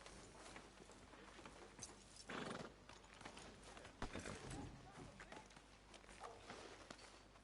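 Horse hooves clip-clopping at a walk in the open-world western game Red Dead Redemption 2, a steady patter of steps with a few louder bursts, set against busy town ambience.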